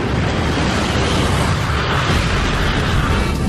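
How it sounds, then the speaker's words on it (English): A Concorde on its takeoff run erupts in a violent explosion, a loud, dense, continuous roar of blast and engine noise filling the whole stretch at full strength. "But just before liftoff, there's a loud noise. Watch out! That sounded like some kind of explosion."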